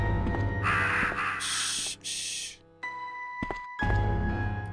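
Several crows caw in loud, harsh bursts within the Resident Evil Survivor game, layered over a steady droning background with a couple of dull thunks.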